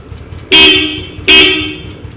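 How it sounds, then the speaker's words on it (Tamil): Two loud, short horn blasts close by from a vintage Royal Enfield Bullet motorcycle, each a bright steady honk with a brief gap between them. "வண்டியோட ஹாரன் அடிக்கிறான் பாருங்கள்"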